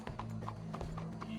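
Horse hooves clip-clop in Red Dead Redemption 2, a quick, even rhythm, close and fairly loud, with a steady low hum running underneath.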